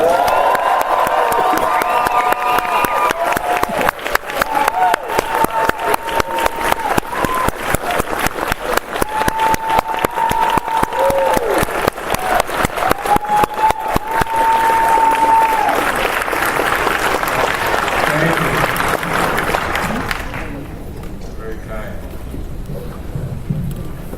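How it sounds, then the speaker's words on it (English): An audience at a question-and-answer event with actor Billy Dee Williams screams, stomps and claps loudly in a sustained roar with rapid rhythmic clapping, then the noise drops off sharply near the end. "screaming and stomping our feet and clapping our hands as loud as we can"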